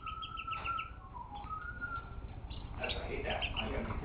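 Birds chirp and whistle with faint, scattered tweets and short calls, set against a low indoor hum with no clear talk over them.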